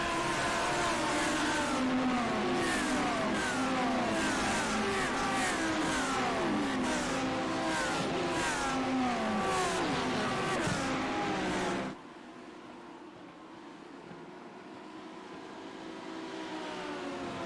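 A pack of GT3 race cars at Canadian Tire Motorsport Park in a racing game roars off the start, engines revving and passing close and loud in overlapping waves, then dropping suddenly to a quieter, more distant engine hum.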